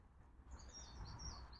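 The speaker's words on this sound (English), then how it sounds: "concentrate on the birds singing instead" Birdsong trills steadily over a low, rumbling traffic hum, the calls fairly soft and continuous.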